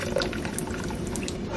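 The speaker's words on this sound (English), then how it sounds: "Pour my hot water in." Hot water is poured into a canning pot for water-bath processing of homemade pepper jelly jars, a brief close splashing, gurgling flow.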